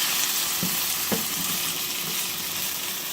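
A hash brown patty sizzles steadily in a frying pan, a close, continuous frying hiss with a couple of soft scraping knocks and no talk.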